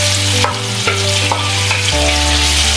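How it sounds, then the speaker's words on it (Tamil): Squid sizzles and fries in hot oil in a pan, a loud, continuous crackle with stirring scrapes and shifts in tone, no voices. "ஸோ இதை இந்த இந்த சட்டியில் போட்டுட்டு இதை நல்லா பொரிய விடணும்."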